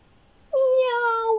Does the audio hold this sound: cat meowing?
yes